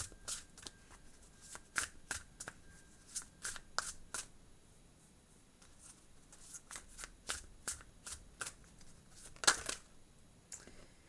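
Tarot cards shuffled by hand in a steady run of crisp riffles and flicks, moderately close, with one sharper snap near the end and no talking.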